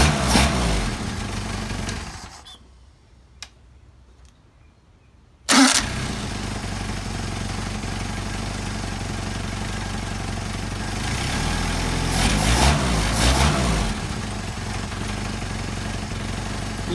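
A steady engine idle while warming up, loud and close with a constant low drone. The engine drops out around two seconds in and comes back with a jump about three seconds later.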